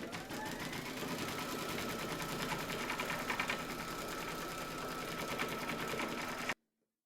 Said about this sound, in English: Pop your hoop into your machine and stitch round number 3 to secure them all